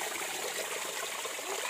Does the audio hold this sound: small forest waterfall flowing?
yes